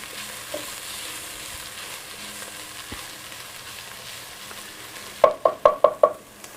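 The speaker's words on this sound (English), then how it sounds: "put my 4 cloves of garlic down in there. All right, let's get that to cooking a little bit" Four garlic cloves fry in a pot for a Tex-Mex chili with chorizo, giving a steady low sizzle that ends in a quick run of five loud, close scraping stirs.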